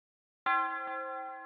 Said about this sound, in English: And yeah, the bell ended up sounding like this.